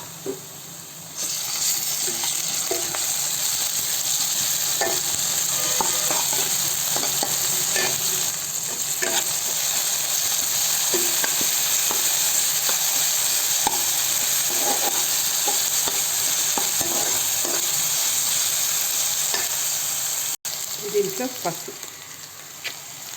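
Ginger garlic paste frying in a pan for chicken gravy, a continuous sizzle with frequent scraping and clinking of a stirring spoon, close and steady, with a brief break near the end.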